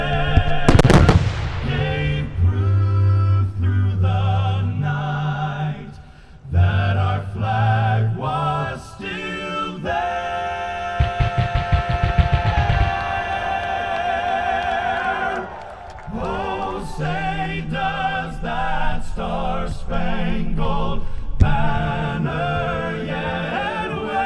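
A fireworks show set to the national anthem, with booming bursts and crackling volleys over loud music throughout, dense and continuous with repeated heavy explosions.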